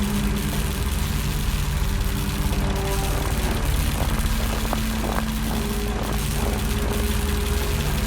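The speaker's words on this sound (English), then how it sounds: "Judging by the engine noise and the smell, there are diesel generators in this shed." Diesel generators idling inside a shed in a video game, a steady low mechanical hum with droning tones that holds at constant loudness throughout, with no talk over it.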